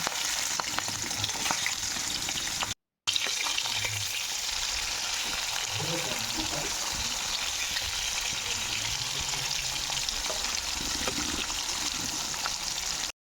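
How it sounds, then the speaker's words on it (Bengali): Raw hilsa fish fried in hot oil in a home kitchen, a loud steady sizzle and crackle that runs on with one brief silent break, no talking over it. "তেলটা কিন্তু গরম হয়ে গেছে। এবার মাছগুলো কিন্তু একের পর এক ছেড়ে দেবো।"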